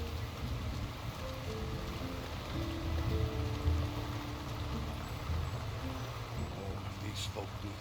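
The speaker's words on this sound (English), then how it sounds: "Who could live in a town where it's always raining?" Steady rain falling over a town in the video game The Lord of the Rings: War in the North, a continuous hiss and patter throughout, with voices talking over it.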